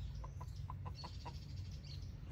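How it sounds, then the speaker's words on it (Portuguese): A rooster gives a short run of soft, evenly spaced clucks while pecking at an eggshell outdoors on a farm, fairly faint over steady low background noise. "Gravando esse galo comendo, sabe o quê? A casca do ovo que ela mesma colocou."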